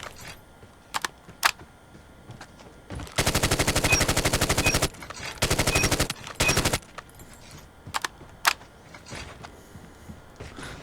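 Grau 5.56 assault rifle fire in COD Mobile: two long rapid automatic bursts and a shorter third, loud and close, between scattered single clicks and quiet gaps.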